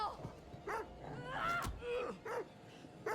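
A dog in a video game barks repeatedly and lets out whimpering, pained yelps, with a thud partway through and a voice talking over part of the sequence.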